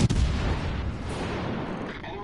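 A World of Warships battleship fires a full broadside of eight armor-piercing shells, a dense rolling roar of heavy gun blasts filling the whole moment, loud and continuous without a break.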